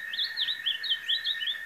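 A small canarinho do brejo songbird sings a fast run of bright, warbling, up-and-down whistled phrases, close and clear over a quiet background with a faint steady high tone.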